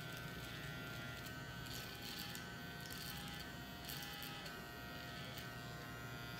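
An electric hair clipper blade cutting a straight line into hair for a freestyle design, a steady close buzz with slight changes in pitch as it presses against the head.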